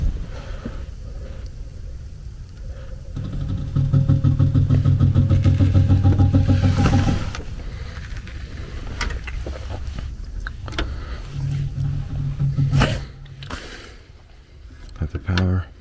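A failing ECM variable speed blower motor struggles to spin, giving a mid-low whirring hum that swells loudly for a few seconds and then drops back, with a brief second surge later over steady background noise.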